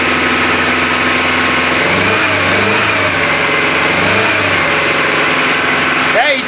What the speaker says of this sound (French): il tourne mieux que l'autre moteur.